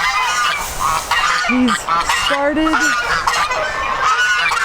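Geese in a farm goose pen honk loudly and close up in several short bursts, with other geese and turkeys calling around them and someone speaking briefly.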